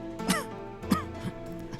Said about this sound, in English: You got a cough there, sir.